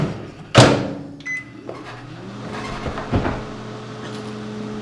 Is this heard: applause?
no